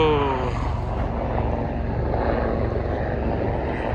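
An aircraft drones steadily near a navy air base where helicopters operate. The constant engine hum is moderately loud and fades slightly, with no talk over it.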